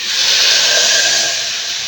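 Spinach hits a hot pan of oil and sizzles, giving a loud, steady, close hiss that swells and then eases slightly, with no talk over it.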